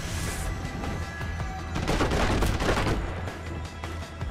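Laser rifle in Deus Ex: Human Revolution firing a sustained burst, a dense harsh crackling blast with rumbling low end that swells in the middle and fades, loud and close with no talking.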